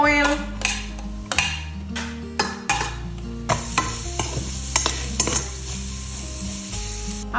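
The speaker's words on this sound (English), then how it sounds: "It's ready to fry the garlic and the onion." Garlic and onion frying without oil in a Saladmaster pan: soft sizzling under repeated clinks and scrapes of a utensil stirring against the pan, with scattered knocks, close and fairly loud, against a steady low hum.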